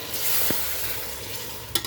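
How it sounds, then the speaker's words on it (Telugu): Tomato puree frying in a pan of chicken curry, a steady hissing sizzle with a couple of brief stirring knocks, no voices. "టమాటా ప్యూరీ కూడా వేస్తున్నాను. బాగా ఫ్రై అవ్వాలమ్మా ఇది."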